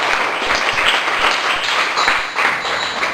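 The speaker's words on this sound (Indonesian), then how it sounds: "Berikan aplaus untuk." A classroom of students claps together in dense, continuous applause that stays loud and even for the whole stretch.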